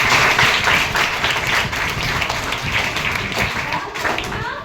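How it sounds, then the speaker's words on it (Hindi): Onlookers at an outdoor Haryana street play on clean food and water clap vigorously for the performers, a loud rough burst of close applause that eases slightly but keeps going, with some voices underneath. "जोरदार तालियां इनके लिए"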